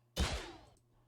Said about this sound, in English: Let's see what the crit hit sounds like in general.